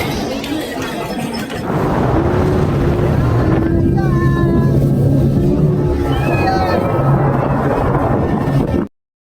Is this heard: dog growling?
no